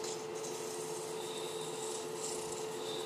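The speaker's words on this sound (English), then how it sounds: "a little bit of sanding on the inside of this just to clean it up" Quiet, steady rubbing of sandpaper against the inside of a turned wooden piece, a continuous soft scratching with slight back-and-forth variation.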